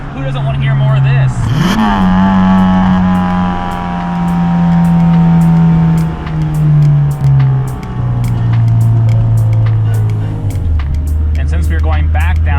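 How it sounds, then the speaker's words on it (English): A Honda Civic EK with a swapped H23A four-cylinder engine pulls hard from inside the cabin, its loud engine note rising and falling through revs and gear changes, with a voice talking over it at times. "And you get to hear more of this, and who doesn't want to hear more of this?"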